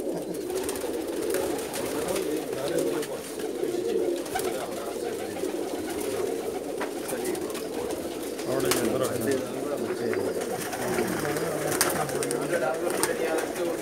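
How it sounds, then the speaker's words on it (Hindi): Pakistani dub-wale pigeons in a loft cooing repeatedly, low rolling coos layered over one another, close and continuous, with faint background noise throughout. "इनमें ज़्यादातर डब वाले कबूतर हैं जी"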